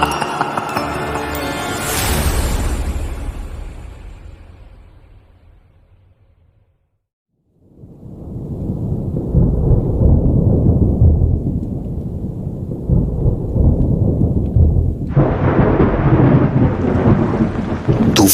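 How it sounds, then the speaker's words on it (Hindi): A raging thunderstorm with heavy rain: a loud thunder crack rumbles and fades into near silence, then dense downpour returns steadily, joined near the end by brighter hissing rain, with no voices. "तूफान अपने जोर पर था"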